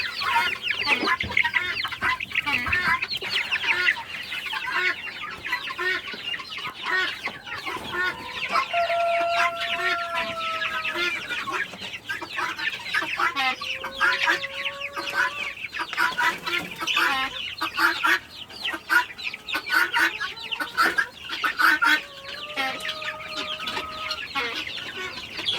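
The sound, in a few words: chickens clucking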